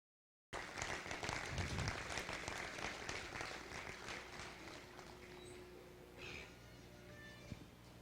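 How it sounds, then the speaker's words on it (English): An audience at a junior breeding gilt pig show applauds in a dense burst that swells quickly, then thins and fades into scattered claps and murmurs. "Let's give Chris a big round of applause."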